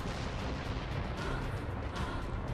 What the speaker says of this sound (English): Activate missile controls. Prepare to launch. Missile controls engaged. Launch ability confirmed.